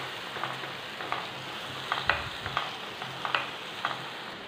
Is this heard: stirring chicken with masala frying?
yes